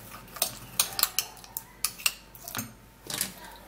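Fuller's Earth being stirred into liquid in a small dish, with a spoon or tool clinking and tapping sharply against the container in irregular bursts, close up and without talk.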